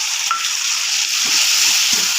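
Steady, loud sizzling of ginger, cumin and chili paste frying in hot oil for a fish curry, with a few soft stirring scrapes near the end; no talking.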